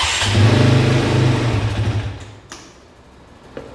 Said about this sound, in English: Let's try to start the bike.